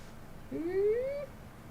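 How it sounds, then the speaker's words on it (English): A cat gives a single clear meow, rising then gently falling, close by and alone against a quiet room with faint low background hum. "Are you the sleepiest cat?"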